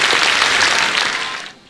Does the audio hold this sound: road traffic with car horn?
no